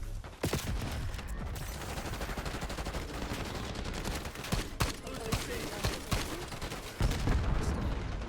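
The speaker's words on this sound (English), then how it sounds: "Probably the worst gunfight I've ever gotten into." Dense rapid gunfire from a Black Ops 6 multiplayer gunfight, loud sustained automatic bursts with sharp individual shots throughout and a heavier burst near the end.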